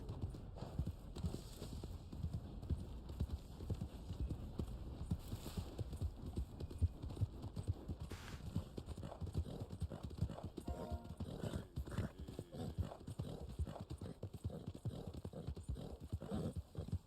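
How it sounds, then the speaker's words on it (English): Hooves of a black Arabian horse in the Red Dead Online game, a steady stream of clip-clop steps at a walking or trotting rhythm, close and fairly quiet, set against a low hum with no talking. "This is the Black Arabian horse I'm using."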